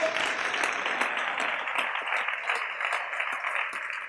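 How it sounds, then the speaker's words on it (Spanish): A church congregation claps together in a dense, continuous burst, loud and close, holding steady throughout without a voice over it. "Dele esa ofrenda de palmas con todo su corazón"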